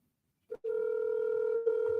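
A telephone call is placed from a cold-calling setup. A short click is followed by a steady, sustained ringback tone, clear and close, broken by one brief dip, with no voices.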